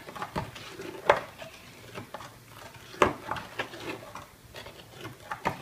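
Baobab juice being stirred with sugar, a spoon clinking and knocking against the container at irregular intervals over a soft swirl of liquid, close and quiet, with no speech.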